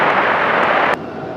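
Airliner taking off from runway 23 right at Raleigh-Durham airport, a loud steady broadband jet roar that drops abruptly to a softer rush partway through.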